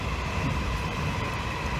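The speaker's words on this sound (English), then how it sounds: "right next to a train track here." A train rumbles past on a railway track close by, a steady, dense roar of wheels and carriages that fills the whole moment with no voices over it.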